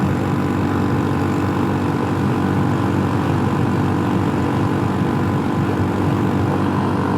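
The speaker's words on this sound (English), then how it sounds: "Just got the throttle pinned open, doing the best it'll do, 51." A small scooter engine runs flat out at full throttle on a California highway, a steady loud drone mixed with heavy wind rush that holds unbroken throughout, with no talking.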